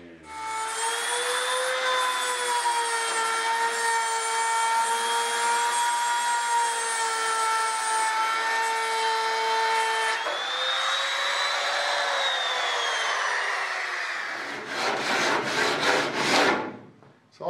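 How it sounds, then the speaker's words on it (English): A router trims the edge of an aluminum-style flap stiffener on a Bearhawk experimental airplane build, a loud steady high-pitched whine held for about fourteen seconds, dipping in pitch midway, then winding down with a rattling spin-down at the end. "I'll clamp my guide in place and take the router and trim it all off"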